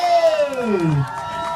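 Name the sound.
crowd applause and cheering at football match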